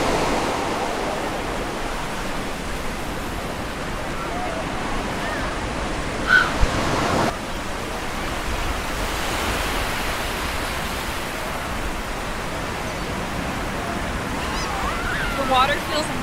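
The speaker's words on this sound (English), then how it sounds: "The waves are perfect" Ocean waves wash steadily as a broad, continuous roar at moderate volume, with faint voices partly mixed in under the surf.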